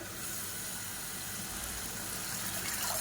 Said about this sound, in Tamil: இப்போ மிக்ஸி அலசிட்டு அந்த தண்ணியை சேர்த்துக்கலாம்.